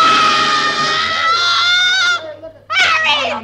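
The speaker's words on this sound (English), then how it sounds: "And then she threw up her hands and shrieked." A woman in a radio drama lets out a loud, sustained shriek that breaks off and then rises again in a second piercing scream, alone with no talk.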